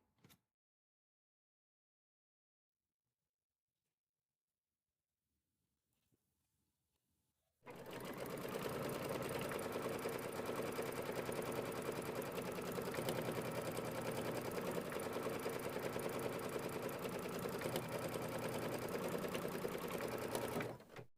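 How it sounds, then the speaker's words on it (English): After a few seconds of near silence, a sewing machine starts up and runs steadily, stitching a quarter-inch seam around the edge of a small quilt with a dense, even mechanical whir that continues alone until it stops. "now it's time to take it back to the machine. It's going to do a 1/4 inch stitch all the way around the outside"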